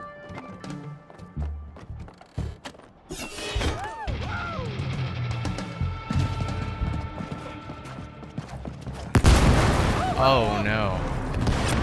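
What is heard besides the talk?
explosions in video game It Takes Two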